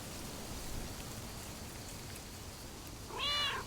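Cat in the game Lake, a single short meow near the end over a steady rain-like hiss of background ambience.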